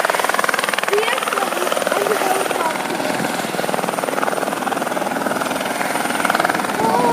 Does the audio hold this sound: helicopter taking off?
yes